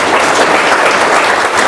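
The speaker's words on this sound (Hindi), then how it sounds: "उनके लिए ताली बजा दो जरा।" An audience claps together at a direct selling business training session, a dense, loud, continuous burst of applause with no speech over it.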